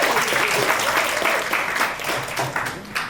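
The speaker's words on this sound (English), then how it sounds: "Let's give Dr. Khan a round of applause" A crowd at an interfaith anniversary gala claps steadily, a dense, lively round of applause with a faint voice underneath.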